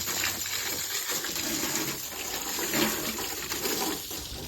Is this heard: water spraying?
yes